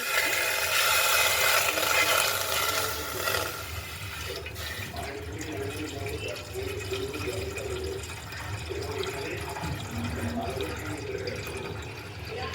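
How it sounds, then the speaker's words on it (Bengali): Water running and splashing into an aluminium pot for syrup, a steady rushing pour that is loudest at first and then settles to a softer continuous flow. "ব্যাস এই পরিমাণে আমি জল দিলাম।"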